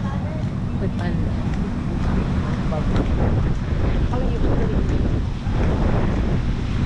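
Strong wind buffets the microphone in a foggy highland setting at Campuestohan, a constant loud rumbling roar with gusty surges that persists through the whole stretch, with no clear voices.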